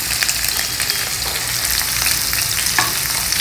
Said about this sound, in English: and lightly fry them.